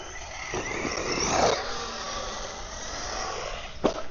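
An Arrma Talion 6S 1/7-scale RC monster truck truggy drives at a distance, its electric motor whining and rising in pitch, with a sharp knock near the end.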